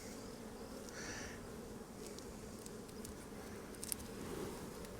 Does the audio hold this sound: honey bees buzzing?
yes